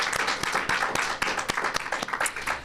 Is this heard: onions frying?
no